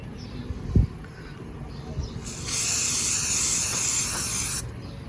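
A motorcycle air filter being sprayed with filter oil in three passes across its pleats: a close, steady hiss of sustained spray lasting a couple of seconds, preceded by a brief handling knock and faint background rustle.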